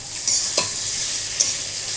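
Salted fish fries in a pan with a steady, close, bright sizzle, and a few short clicks and scrapes of stirring cut through it, with no talking.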